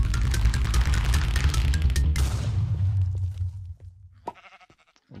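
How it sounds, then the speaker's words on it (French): A sheep bleats in Minecraft on the Hypixel server during a mystery box opening, with a loud, dense burst of game effects before it and then a few short, sharp pops and chimes. "Ok, un mouton."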